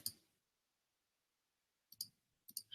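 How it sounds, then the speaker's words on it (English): Computer mouse clicks made while selecting letters with a key held down, one quick click at the start, then a lone click and a close pair near the end, crisp and near against near silence. "I'm holding down my command key and clicking the letters with my mouse"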